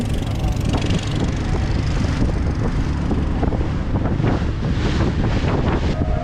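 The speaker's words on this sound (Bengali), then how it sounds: "ये पानी है यहाँ से आ रहा है, ये पावर हाउस बना हुआ है, यहाँ से आ रहा है ये पानी।" Water surges out from a power house outflow near Omkareshwar, a loud, steady rush of turbulent water heard up close with heavy wind buffeting the microphone throughout.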